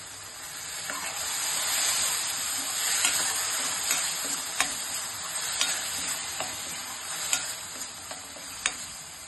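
A spice paste with turmeric for a mustard-seed fish curry sizzles in hot oil, and regular spoon clinks and scrapes mark the stirring up close, with no one talking.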